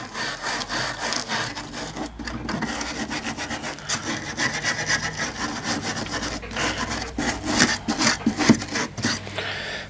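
A steel wire brush scrubs hard across a rusty steel Primus No.5 stove in dense, rapid back-and-forth rasping strokes, close and continuous throughout with no speech.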